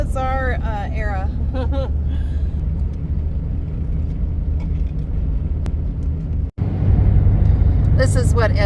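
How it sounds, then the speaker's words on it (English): A roadside steady rumble of cars passing on the highway fills the scene, with a voice talking briefly at the start and again near the end. "There's cars coming and they just wait till the last minute to get over."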